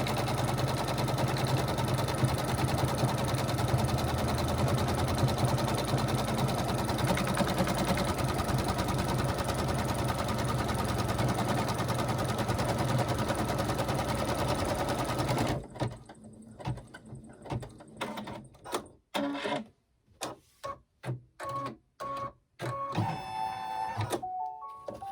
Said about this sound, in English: this is going to make a stitch line, 2 stitch lines down the center